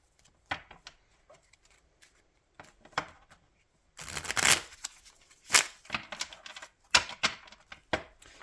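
Tarot cards being shuffled by hand, with sparse riffles and soft slaps at first, then denser bursts of card flicks and taps, close and fairly quiet, with silent gaps between.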